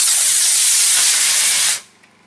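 A model rocket fitted with a D12.5 motor launches from a Pringles sour cream and onion can, letting out a loud, close, roaring hiss that holds for under two seconds and then cuts off sharply into quiet.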